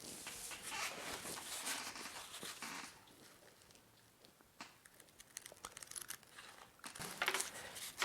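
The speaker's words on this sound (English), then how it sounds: "I can cut them out immediately" Cushion pattern pieces cut out for a desk seat cushion: faint, close crinkling and rustling of paper or fabric, with a louder crisp stretch at first, then scattered small snips and handling noises.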